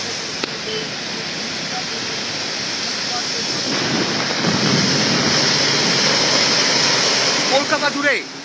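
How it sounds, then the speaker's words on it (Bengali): Heavy evening rain pours down during a Kalbaishakhi storm in Kolkata with strong gusty wind, a dense, loud, continuous roar that swells toward the end. "কলকাতা জুড়ে সন্ধ্যায় ভারী বৃষ্টি, তার সঙ্গে ঝোড়ো হাওয়া।"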